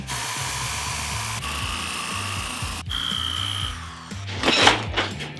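A power sander works a plain pine board with a close, steady motor whine. The pitch shifts slightly as pressure changes, with a grinding flutter on top and a brief rougher burst near the end.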